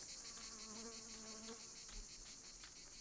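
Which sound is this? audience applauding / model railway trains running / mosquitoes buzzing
mosquitoes buzzing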